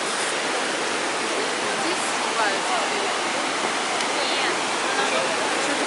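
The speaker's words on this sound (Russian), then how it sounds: "Здесь сливаются две реки. Вот там вот Катунь, а вот это Чималка." Rushing water where the Katun and Chemal rivers meet, a steady loud roar of river current filling the whole stretch without a break, with no voices over it.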